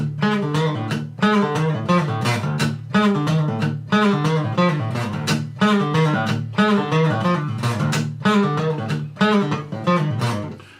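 Palm-muted acoustic guitar riff with short, choked chugging notes in a tight repeating rhythm, close and clear with no talking.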